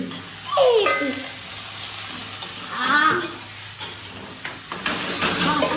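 Chicken chow mein with capsicum, carrot, beans, onion and chilli sizzles and hisses in a frying pan as it is stirred, steady frying noise with scraping bursts, a voice speaking briefly over it.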